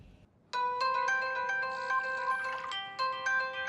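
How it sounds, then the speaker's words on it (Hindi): A mobile phone ringtone plays a bright, repeating melodic chime, starting abruptly after a moment of quiet and ringing on steadily and close. "तुम्हारा फोन।"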